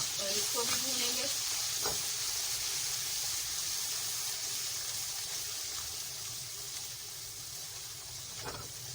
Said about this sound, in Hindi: धनिया, हल्दी, जायका, नमक और हल्दी डालेंगे। और ड्राई मसाले जो हमने ड्राई रोस्ट करके पीसे थे वो भी डाल देंगे इसमें और इसको भी भूनेंगे।